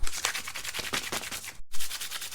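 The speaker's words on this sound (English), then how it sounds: "When you haven't got big enough grit sandpaper, you just have to commit and sometimes use a nail file." A nail file rubs briskly back and forth over primer on a car panel, a close, raspy scratching in quick even strokes, with a brief pause before the filing resumes.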